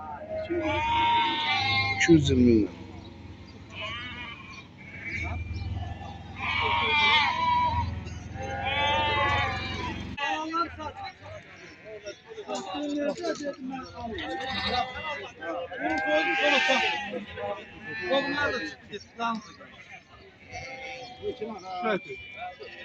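Lambs bleat repeatedly at a sheep market in Barda, their cries fairly close and mixed with men haggling over prices.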